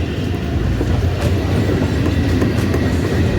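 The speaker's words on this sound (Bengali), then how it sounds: "এই যে ট্রেন যাচ্ছে" A train rolling past close by at a railway line where traffic waits, a loud continuous rumble with rhythmic wheel clatter throughout, no voices.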